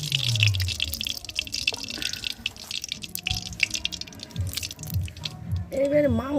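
Cooking oil poured into a pan of potatoes being mixed for a goat fat and mutton dish, a short trickling pour with dripping and light kitchen clatter, fairly close.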